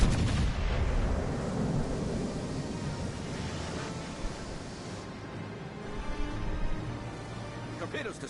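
Heavy warship guns booming in a naval battle game, a dense rumbling barrage of low blasts and rolling roar, loud and continuous, with no clear speech.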